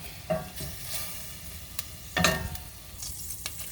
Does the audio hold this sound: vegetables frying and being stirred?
yes